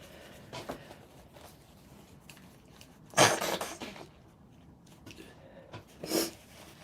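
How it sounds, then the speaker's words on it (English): A person with hay fever sniffing up close, a couple of separate wet sniffs and snorts spread across a mostly quiet stretch, with faint rustling of journal pages between them. "Excuse me sniffing."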